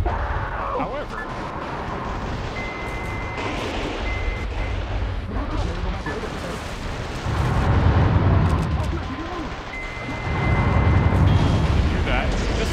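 Missile launcher explosions in the Metal Wolf Chaos video game, a continuous barrage of booming blasts and rumbling detonations with heavier bursts near the end, mixed under game noise and a talking voice.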